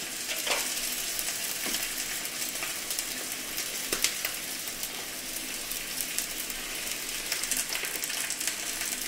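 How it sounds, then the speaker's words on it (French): A gorgonzola sauce with a few drops of tabasco and a spoonful of balsamic vinegar is stirred in a pan, giving a steady, close, continuous scraping and bubbling hiss with no voices. "On mélange le tout"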